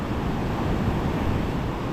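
Ocean waves break at a coral beach with tide pools at South Point, Hawaii, a loud, steady wash of surf mixed with wind buffeting the microphone.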